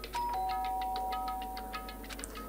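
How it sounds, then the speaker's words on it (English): A doorbell rings in the Danganronpa video game on PS4, a clear electronic chime with a sustained tone over a soft repeating pattern of faint ticks, alone without voices. "pressed the doorbell"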